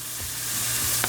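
Pork medallions searing in a hot pan, a steady loud sizzle that swells as pieces are turned, with a brief scrape near the end.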